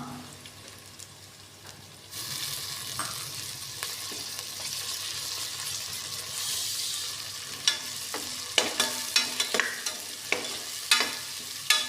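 Ginger garlic paste dropped into hot oil for vangi bath, a quiet hiss that jumps into a loud, steady sizzle, followed later by a run of crisp spoon taps and scrapes against the pan.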